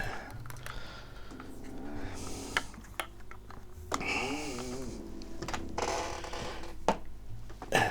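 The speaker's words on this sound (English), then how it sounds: "Excuse my squeaky chair." An office chair squeaks and creaks in several short bursts while the sitter shifts, mixed with clicks and desk knocks, close and moderately loud.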